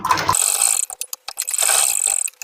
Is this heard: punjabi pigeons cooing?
no